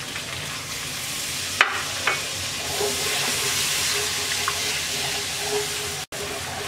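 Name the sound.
spices sizzling while being sautéed in a pan with water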